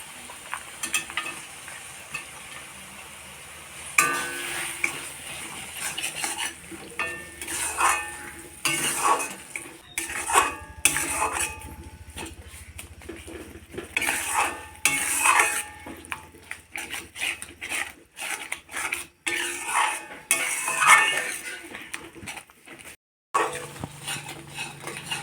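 Tomato chutney sweetened with jaggery is stirred in a pan, a spoon scraping and clinking against the metal again and again in an uneven rhythm over a soft sizzle, close and fairly loud.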